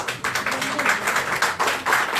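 An audience at a psychoanalytic institute lecture on film applauds, with many hands clapping in a close, rhythmic patter that swells and dips slightly over a couple of seconds.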